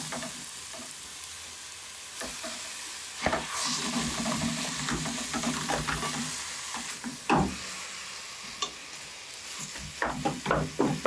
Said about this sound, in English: once you put the minced meat in, you have to keep pounding it so that it doesn't form balls or form lumps.